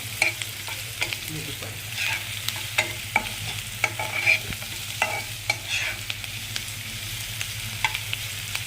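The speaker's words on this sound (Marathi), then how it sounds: "आता कांदा टाकून घेऊया. थोडा कांदा परतू द्यायचा." Chopped onion sautés in a pan with a steady close sizzle, broken by regular sharp ticks and scrapes of a spatula stirring, and no voices.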